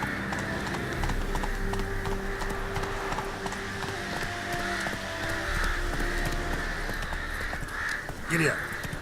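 Roach, the horse in The Witcher 3, gallops with steady hoofbeats throughout, set against game ambience with crows cawing and a rider's voice over it.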